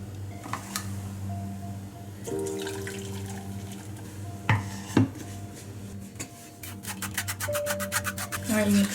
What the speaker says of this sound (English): So I am using the strainer to strain the juice